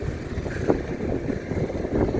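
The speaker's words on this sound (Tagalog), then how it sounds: "Lakas ang hangin." Strong gusts buffet the microphone outdoors along a riverwalk in Valenzuela City, a steady low rumbling roar that swells and dips throughout, loud and close with no talking.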